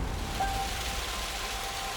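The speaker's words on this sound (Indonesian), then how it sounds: "Disambut dengan hujan lebat dan gemerlap lampu kota." Heavy nighttime rain on arrival in Padang city makes a dense, steady hiss that fills the scene without pause, loud and continuous with no voices.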